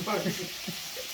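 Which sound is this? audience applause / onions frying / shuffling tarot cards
onions frying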